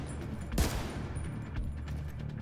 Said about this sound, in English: Shoot that guy.